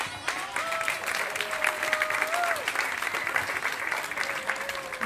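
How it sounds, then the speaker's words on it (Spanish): An audience at a community gathering of Mexicali Resiste with people from Cuetzalan, Puebla, breaks into sustained applause: a steady wash of clapping that stays even throughout, with a voice briefly audible over it. "Vamos a pedir un aplauso"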